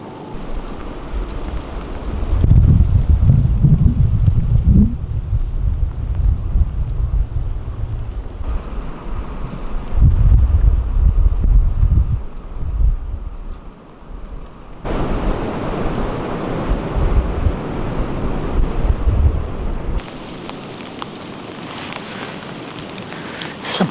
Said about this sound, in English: Still pretty windy,